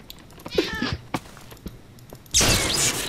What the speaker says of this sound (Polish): Gdzie kotek?